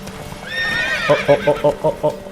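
Horse in The Witcher 3 video game, a whinny followed by a rapid run of hoofbeats in a clear galloping rhythm, close and loud.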